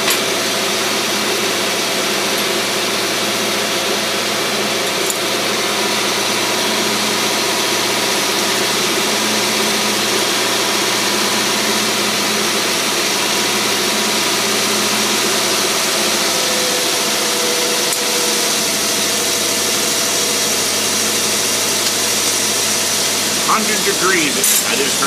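An engine fitted with a Rochester two-barrel carburetor idles steadily for about 25 seconds, a close, even low rumble with mild vibration and a faint mechanical tick near the end, while people talk over it.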